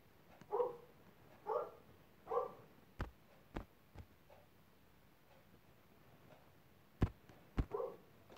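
Several dogs bark in a quiet room, separate single barks spaced out over a few seconds, moderately close, with sharp clicking taps in between and no talking.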